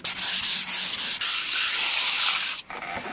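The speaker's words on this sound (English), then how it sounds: "using sandpaper is probably the best way to clean it" Sandpaper rubbed steadily over a wooden desk top in long, loud scratchy strokes with brief pauses between passes, stopping abruptly near the end.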